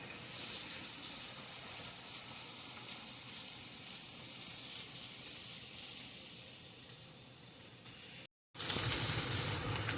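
Tempeh fries in a pan with a steady hissing sizzle that runs unbroken, then cuts out briefly and comes back louder and brighter.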